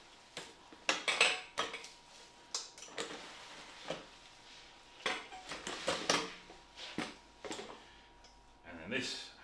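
Clattering and knocking as a Sherpa Power Barrow metal frame is turned over during assembly, a series of sharp metallic taps and bumps at close range with brief pauses between them.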